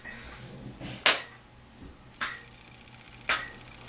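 Three sharp hand claps ring out about a second apart, crisp and near, over a quiet room.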